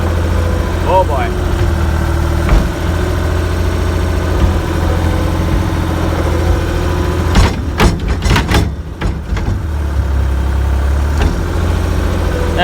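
A tractor engine idles loudly and steadily close by with a deep, continuous rumble; a few clanks and a brief change in the engine note come midway, with a voice talking over it.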